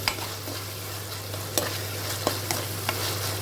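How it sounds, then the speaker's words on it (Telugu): Moong dal fries in a pan with a steady close sizzle, while a spoon scrapes through it several times at uneven intervals and a low hum runs underneath. "కాసేపు వేగించుకోవాలి."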